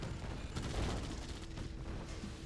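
A nuclear strike lands in a real-time strategy match, a dense rumbling blast with crackling gunfire-like bursts, loud and continuous for a couple of seconds and heard alone.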